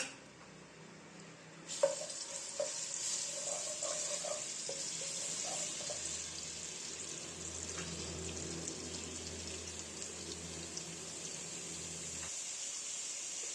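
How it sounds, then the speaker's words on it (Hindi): Steady hiss of crushed garlic sizzling in hot oil over medium heat, with a few light clinks of a spoon stirring early on, continuous and close. "अब इसमें 1 टीस्पून पिसा हुआ लहसुन डाल देंगे।"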